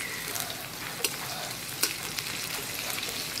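Chopped green chillies and capsicum frying in a pan for a village-style veg Manchurian, a steady close sizzle with a few sharp crackles and pops throughout.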